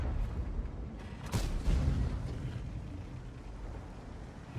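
A Caernarvon AX tank cannon fires in a video game, one loud booming shot with a rumbling tail fading into low battle ambience, no voices.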